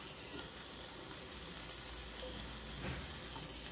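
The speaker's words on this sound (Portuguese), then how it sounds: "É importante colocar o bacon, porque é ele que vai dar uma selada aqui na chapa" Bacon frying on a hot flat-top griddle, a steady, dense sizzle and crackle that stays even and fairly close throughout, with no voices over it.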